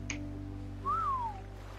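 A whistle command in the ARK survival video game, heard as a single short rising-then-falling whistled tone near the middle, moderately loud over a steady low game background hum.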